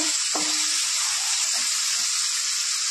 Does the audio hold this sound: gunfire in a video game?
no